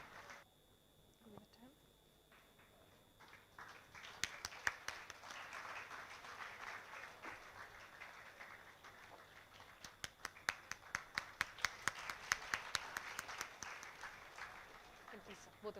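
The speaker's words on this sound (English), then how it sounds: "let's have a loud round of applause for the real heroes in our life who are battling it out every day" A stage event audience gives a round of applause for guests, a steady crowd clapping that swells and continues for several seconds, with sharp individual claps rising above a dense patter and some voices underneath.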